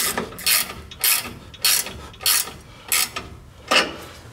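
Hand ratchet snugging down bolts while installing Firestone Ride-Rite air bag suspension on a Dodge Ram 1500, giving six or seven evenly spaced bursts of ratcheting clicks, close and loud with no talk.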